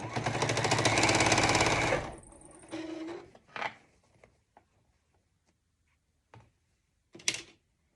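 A sewing machine stitches folded, tucked fabric in a fast, loud mechanical burst for about two seconds, then stops, followed by scattered handling clicks and soft rustles in near quiet.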